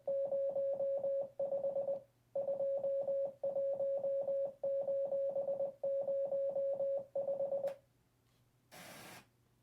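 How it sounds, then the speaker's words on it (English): Morse code beeps sound as a steady single tone pulsing in rapid on-off bursts, grouped into repeated runs over several seconds, ending with a brief noise burst; no talking. "It's Morse code."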